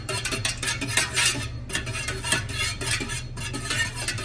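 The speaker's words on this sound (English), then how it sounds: "I just stir it until I think it's mixed in good enough and it should be fine." Melted soy candle wax being stirred in a container, giving rhythmic scraping and swishing strokes that repeat in steady waves, close and fairly loud, with no voices.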